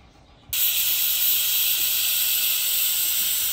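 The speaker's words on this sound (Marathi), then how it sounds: "कुकरचं झाकण लावून आता आपण 4 ते 5 शिट्ट्या घेणार आहोत." A pressure cooker with mutton inside lets out a loud, steady steam whistle and hiss. It starts abruptly after a brief quiet moment and holds at full strength to the end, close and on its own.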